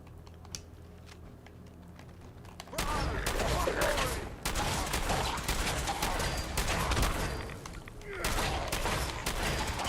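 Rapid shotgun fire in the video game Fallout 4 during a live playthrough, a dense loud burst of repeated blasts and clattering that starts abruptly and runs on for several seconds.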